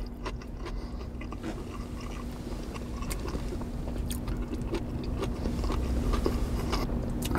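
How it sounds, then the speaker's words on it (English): Chewing and biting on a Chicago-style hot dog with pickle from a drive-in, close and crunchy, with repeated small crisp bites over a low background hum and no talking. "It's got that snap, the crunch of the pickle."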